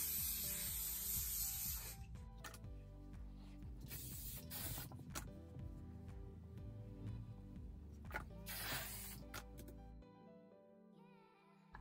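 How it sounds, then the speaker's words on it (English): Short hissing bursts of hairspray sprayed onto hair close by, separated by quieter rustling and rubbing of hands flattening the hair in between. "I spray this again on my hair and then flatten it down with my hands"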